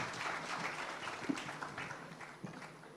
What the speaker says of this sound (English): Can we have a round of applause for our panelists, please?